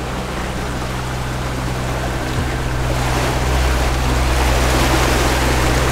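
A boat's steady low engine drone with a constant hum at about 6 knots at sea, mixed with broadband wash of water and wind, continuous and fairly loud throughout.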